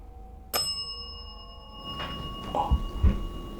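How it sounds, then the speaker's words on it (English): A single sharp bell strike rings out during a paranormal investigation in a reportedly haunted house, its bright tone sustaining and slowly fading over a few seconds, followed by faint knocks and rustling. "If you're a man, can you ring that bell once?"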